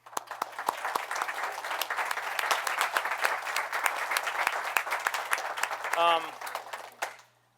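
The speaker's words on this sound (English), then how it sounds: "So why don't you give them a round of applause real quick." Audience applause at a town board meeting: a modest room of people clapping, with distinct individual claps in a steady patter that builds and then dies away near the end, and a brief voice partway through.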